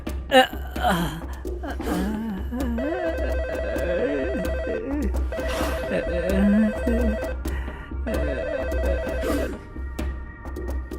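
A phone ringtone repeats in three bursts of a steady electronic tone, playing over background music and brief gasping sounds.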